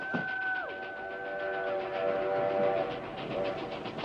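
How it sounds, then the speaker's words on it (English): A train rolls past on railroad tracks in a film scene, its horn blaring in long sustained tones that bend and drop as it passes, over a loud continuous rumble of wheels. "Train!"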